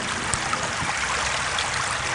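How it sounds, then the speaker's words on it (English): Missouri River floodwater pours through a breached levee into farm fields in Pottawattamie County, a steady, loud rushing and gurgling flow that runs unbroken throughout. "Water flowing from the Missouri River has been filling these farm fields in northwest Potawatomi County all week"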